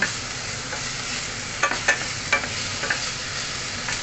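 Pork belly frying in a pan, with a continuous close sizzle and a few sharper pops and stirring scrapes, no voices.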